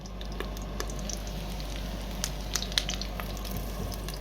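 Steady low sizzle of oat pancakes frying in a pan, with occasional light pops and crackles over a constant background hum.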